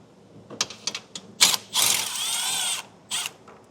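Power tool spinning out 10mm fasteners on a 2022 Chevrolet Equinox: several short close whirring and ratcheting bursts, then one longer sustained whir and a final brief burst.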